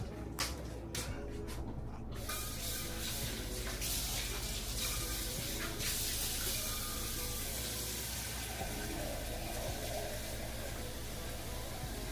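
Tap water runs steadily into a cooking pot for macaroni in a home kitchen, a continuous close rushing and filling sound with a few clatters at the start.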